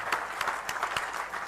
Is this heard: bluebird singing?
no